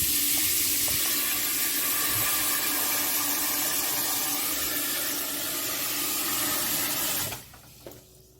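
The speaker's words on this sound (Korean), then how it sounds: "여기다가 물을 넣고 먼저 물을 끓이는 거예요." Water pours steadily and loudly into a pot for soybean-paste ramen, a close, continuous hiss and splash that runs for about seven seconds before cutting off abruptly, leaving quiet.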